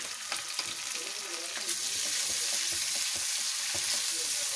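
Steady oil sizzle of garlic and ginger frying with onions in a pan for murgh karahi, a continuous hiss with occasional pops and stirring clatter, no talking.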